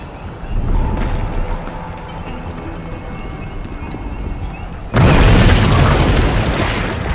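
Bomb explosion in the video game We Happy Few: rhythmic thudding footsteps give way to a sudden loud blast about two-thirds through, followed by a lingering roar of debris and rumble.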